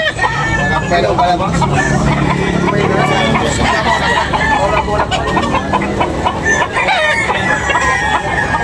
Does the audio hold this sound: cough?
no